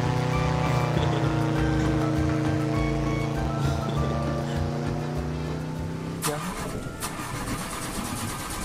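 A speedboat motor drones with a steady harmonic hum, then abruptly cuts out after several seconds into a rougher, fading rumble; no voices are heard.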